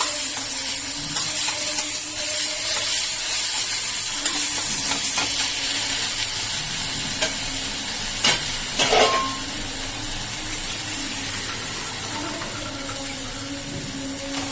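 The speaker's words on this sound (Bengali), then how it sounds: "আদা, টমেটো, ধনেপাতা, গোলমরিচ গুঁড়ো, গোলমরিচ সব দিয়ে সেই মশলাটাকে আমি সুন্দর করে এবার ভেজে নেব" A paste of ginger, tomato, coriander and pepper fries in a pan with a constant hissing sizzle and occasional stirring clinks, close and fairly loud throughout.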